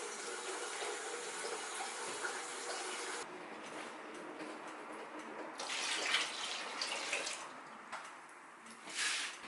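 Tap water pours into a homebrew bucket for kiwi country wine, a steady splashing stream that shifts in tone as the flow changes, with no talking.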